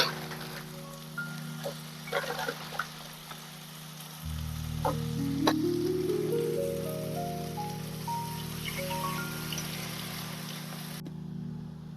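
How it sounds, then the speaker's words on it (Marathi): Chopped vegetables fry in a hot pan for Maggi momos, a steady close sizzle like light rain running nearly the whole time and growing fuller midway, with a few soft clinks and a rising tonal sweep in the background; no one speaks. "we'll wait till it fry very nicely"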